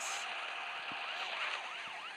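An emergency vehicle siren wails in a repeating rising-and-falling sweep, heard at moderate distance over steady traffic background with no talking.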